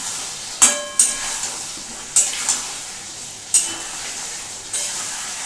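Katla fish curry with potatoes frying in a pan, a steady sizzle broken by several sharp scraping stirs of the spoon at irregular intervals, close and fairly loud with no voices.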